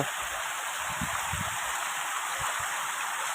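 A stream on a farm flows close by in a continuous rushing hiss, with a few soft low gurgles bubbling up through the steady water noise.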